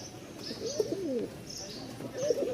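Several pigeons coo in soft, repeated throaty phrases close by, with a few faint high chirps in the background.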